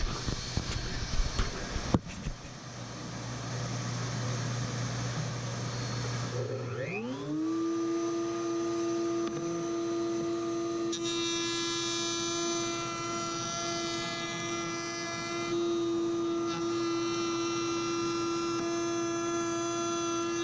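A workbench dust collection system starts up after a few clicks and spins up to a steady, loud motor whine and hum that keeps running evenly to the end.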